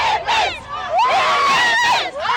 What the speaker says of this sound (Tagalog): Tumagungdong hanggang sa labas ng stadium ang sigawan ng mga Pinoy na saksi sa pagdepensa ng Gilas Pilipinas sa gintong medalya sa 33rd SEA Games.